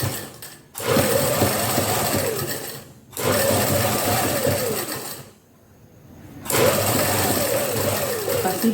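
A sewing machine stitches lace onto a sleeve in three sustained, rapid runs of whirring. The runs are separated by short pauses, and the machine is close and loud.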